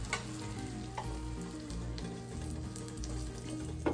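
A mini muffaletta sandwich grills in a buttered pan, a faint, even sizzle with a low steady hum and a couple of soft clicks, no speech.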